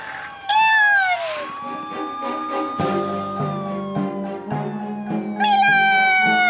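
A cartoon cat lets out several loud, drawn-out meows and yowls with rising and falling pitch, over a backing music track with steady notes.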